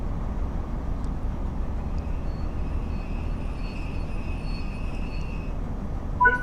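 A BR Class 166 train in Train Sim World 6, on the GWR Paddington to Reading route, slows into Slough station with a low steady rumble, a faint thin whine above it and a small clunk at the end.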